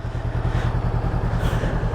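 A Honda CB500X motorcycle engine idles close by with a steady, throbbing low pulse and an even mechanical rhythm, alone and unbroken throughout.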